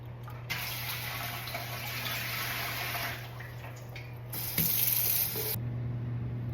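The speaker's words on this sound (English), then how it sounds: "Here is my Presto 23 quart pressure canner, and I need to put 3 quarts of water in it." Water from a tap runs steadily into a Presto 23 quart pressure canner, a close, continuous rushing flow under a low hum, shifting slightly in tone as the pot fills.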